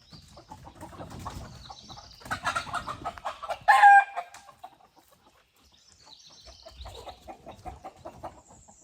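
A rooster crows and chickens cluck close by on a farm homestead, scattered clucks building to a loud crow mid-clip, then softer clucking resumes.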